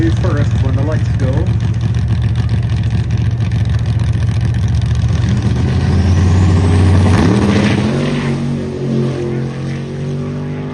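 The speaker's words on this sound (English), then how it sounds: "Pickup truck will leave first when the lights go." A pickup truck's engine roars loudly as it launches at an airport drag race, the note climbing steadily and swelling near the middle, with a steady drone running underneath.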